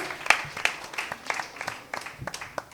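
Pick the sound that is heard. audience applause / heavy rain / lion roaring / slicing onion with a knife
audience applause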